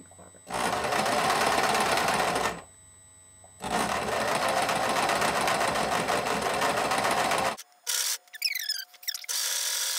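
A sewing machine stitching a dress seam runs in a loud, steady mechanical whir for about two seconds, pauses, then runs again for nearly four seconds before stopping, followed by a few brief handling noises.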